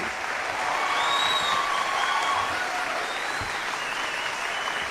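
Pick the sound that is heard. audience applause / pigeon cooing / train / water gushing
audience applause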